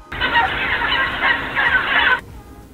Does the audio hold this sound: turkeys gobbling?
yes